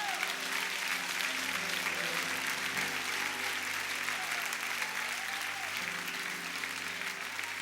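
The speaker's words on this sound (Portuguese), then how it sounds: "Aplauda o Senhor Jesus." A church congregation applauds steadily and continuously, a dense wash of clapping from many hands that fills the room at a consistent level throughout.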